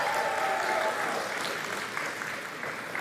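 An audience at the POCO F7 smartphone launch event bursts into applause, a dense clapping wash that starts strong and tapers slightly over three seconds, with a faint tone audible early on.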